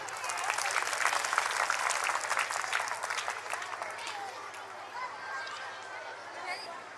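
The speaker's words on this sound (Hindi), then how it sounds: "आप उसके लिए तालियां बजाएं।" Audience applause fills a school annual function at Govt Model Sanskriti Primary School, Kakrod; a dense burst of clapping with some crowd chatter starts strong, then thins and fades toward the end.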